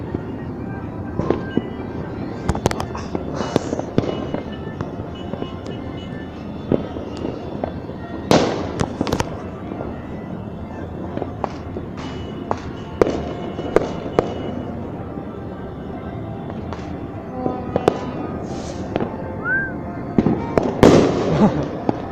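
Fireworks crack and pop irregularly at a distance during New Year celebrations in the Philippines, sharp bursts scattered over a steady background hum, with occasional voices nearby.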